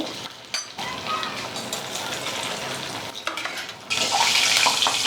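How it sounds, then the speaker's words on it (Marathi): A sabudana and bhagar vada slid into hot oil on a low flame, a steady sizzle that swells into a louder, brighter frying hiss near the end, heard close with no talk. "तेलाला ताव आलेला आहे आता हा वडा सावकाश आपल्याला यामध्ये सोडायचा आहे"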